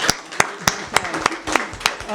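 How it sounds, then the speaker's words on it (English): An audience at a League of Women Voters community forum in Weston claps in a sparse, rhythmic way, with sharp separate hand claps roughly every third of a second over a low murmur of voices. "Let's hear an applause for Weston Today."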